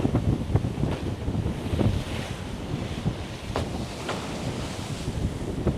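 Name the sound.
wind at sea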